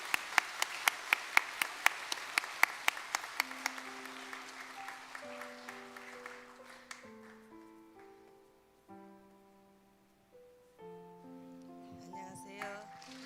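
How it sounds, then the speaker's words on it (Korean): Church congregation applauding to welcome a speaker at a Sunday worship service: a few loud, distinct claps open a short burst of applause that thins out after a few seconds, followed by sustained musical notes. "따뜻한 박수로 환영해 주시기 바랍니다."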